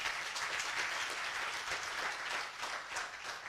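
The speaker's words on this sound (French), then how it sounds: "On va l'applaudir très très fort." Audience applause at a communication awards ceremony honoring an audiovisual figure, a steady wash of clapping from a crowd heard at a distance, fairly quiet and uniform throughout.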